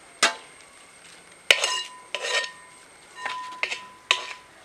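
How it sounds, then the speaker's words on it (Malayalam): Masala with crushed garlic being stirred in a pan, roughly seven separate sharp scraping strokes of a spoon against metal, close and clear over a quiet background. "എന്നിട്ട് നന്നായിട്ട് ഒന്ന് ഇളക്കി കൊടുക്കുക"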